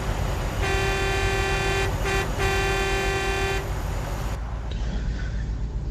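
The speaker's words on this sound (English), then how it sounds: "did finally add the actual Volvo truck horn, air horn that's in the actual Volvos in real life" A loud, sustained Volvo truck air horn in American Truck Simulator blasts for about three seconds with a brief break in the middle, over steady engine rumble.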